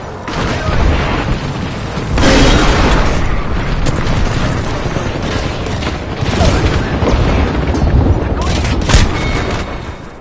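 Grenade blasts and heavy booms in a chaotic video game firefight, loud, rumbling and continuous, with repeated bursts over a constant roar of combat and a voice heard in the mix.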